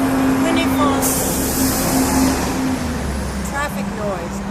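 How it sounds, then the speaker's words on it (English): Steady road traffic rumble outdoors at a political press event, with a continuous low engine drone and passing vehicles, plus a faint hiss and brief squeal-like tones over the top. "Traffic noise."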